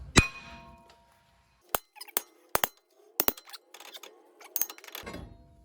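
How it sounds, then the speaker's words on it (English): A hammer taps the perimeter of a front brake rotor on a Hyundai Elantra GT to free it from the hub. It gives a sequence of sharp, ringing metallic clinks, single and in quick pairs, separated by short silences, close and fairly quiet. "just going to tap around the perimeter of the rotor so that we can get it off"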